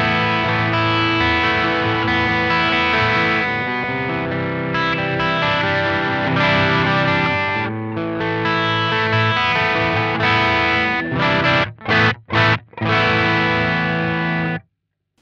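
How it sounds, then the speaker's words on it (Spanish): An electric guitar is played through an Archer Gold overdrive pedal on a pedalboard, giving loud, gritty driven chords and riffs that sustain, then a few short choppy stabs before the strings are cut off. "En el 4 tenés uno de mis pedales favoritos, que es el Archer, en este caso el Archer Gold."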